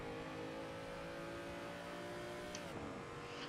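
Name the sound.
BMW 235i racecar engine at full throttle, Assetto Corsa video game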